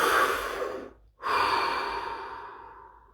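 A slow, deep breath taken up close during a guided relaxation session: a long airy inhale, a brief silent pause, then a long, steadily fading exhale.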